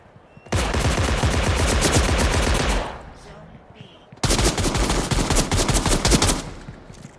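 Rapid automatic gunfire in the space game Star Atlas, two long loud bursts of close, fast shots separated by a short lull, with faint voices around them.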